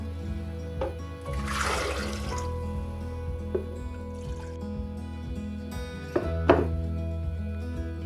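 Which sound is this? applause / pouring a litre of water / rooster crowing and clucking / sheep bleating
pouring a litre of water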